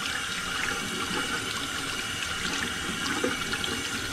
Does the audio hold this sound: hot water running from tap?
yes